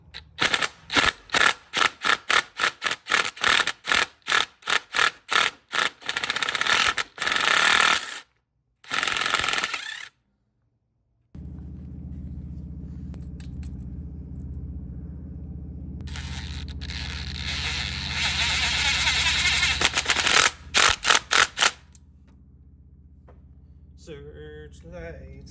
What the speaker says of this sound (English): Impact drill.